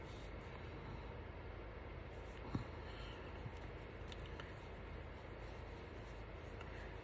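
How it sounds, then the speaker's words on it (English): A Stabilo Woody color stick is rubbed onto paper with heavy pressure, making a faint, continuous scratchy scrubbing sound with a small tap partway through. "especially when you're rubbing it into the paper."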